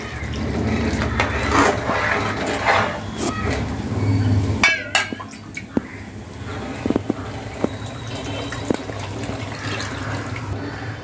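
Maharashtrian pitla being stirred in a pot gives wet sloshing and light clinks of the spoon against metal, with an abrupt change partway through, followed by scattered knocks and scrapes.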